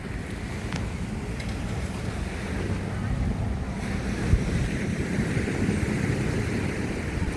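Steady wind at Cha-am beach on the Thai coast, a constant broad rush with surf rolling underneath, loud and close to the microphone throughout.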